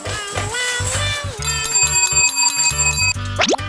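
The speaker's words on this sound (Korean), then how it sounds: "종소리가 울리면 밥때가 됐다는 것 기가 막히게 알아듣고 모여드네요" A bright metallic bell rings repeatedly in rapid, ringing strokes to call nine cats to their meal, loud and close, with a few higher scraping sounds near the end.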